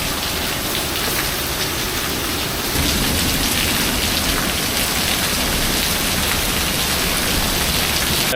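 Heavy rain pours down over an outdoor yard sale, a dense, loud, unbroken hiss of drops drumming on surfaces, near and constant throughout.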